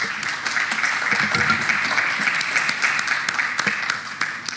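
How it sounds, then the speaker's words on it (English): Sustained audience applause at a SIGNIS world communicators' conference in Kigali, Rwanda, dense and fairly loud clapping from a large crowd, lasting throughout without letting up. "On peut l'applaudir."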